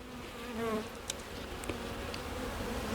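Honeybees buzz steadily around an open hive holding honey and nectar, a close, continuous drone with wavering pitch and a few brief louder passes from individual bees.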